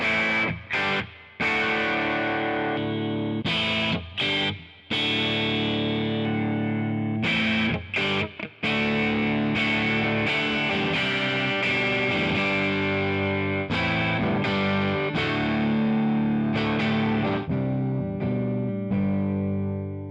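Squier Jazzmaster electric guitar played through an overdriven Fender Deluxe Reverb tube amp, gritty sustained chords and notes with short pauses, loud and close, no voices.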